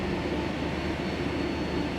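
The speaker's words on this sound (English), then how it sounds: "Okay, good start both engines." Boeing 757 jet engines idling steadily after start, a continuous loud broadband roar with a low rumble and faint whine, close and unbroken for the whole stretch.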